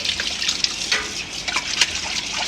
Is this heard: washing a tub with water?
yes